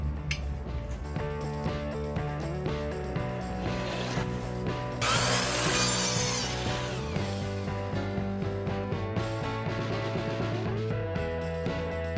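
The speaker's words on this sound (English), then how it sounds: "So I'm just sanding the edges where I've cut with the skill saw" A power sander runs continuously with a steady hum and rough grinding against the cut edges of wood, swelling into a harsher, brighter rasp midway.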